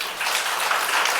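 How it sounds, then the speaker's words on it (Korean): A church congregation claps together, with a dense, even burst of applause filling a large hall. "우리 박수 한번 쳐줘요."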